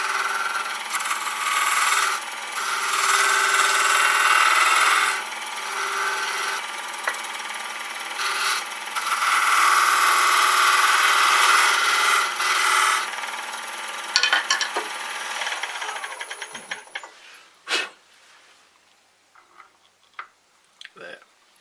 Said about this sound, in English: for this I'll just use a skew. Come up to about 1600 again.